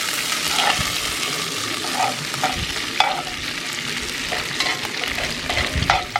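Food sizzles and spatters in a small amount of cooking oil, a steady dense frying hiss with scattered pops and occasional stirring scrapes, close and fairly loud with no talking.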